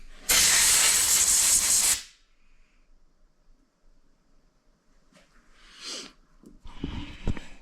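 A strong burst of air hisses for about two seconds through the carburetor of a 1983 Yamaha Bravo 250cc snowmobile. Quieter short puffs and spray sounds follow.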